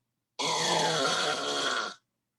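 A voice imitates a man's open-mouth drooling snore, one loud, sustained, rattling groan lasting about a second and a half and heard alone.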